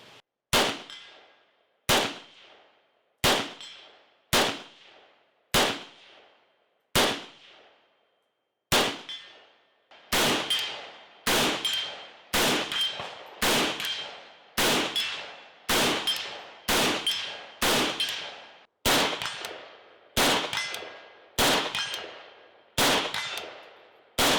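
PSAK GF3 rifle firing a steady series of loud, sharp single shots, each with a ringing decay, spaced about one per second and quickening slightly toward the end, with no talk over it.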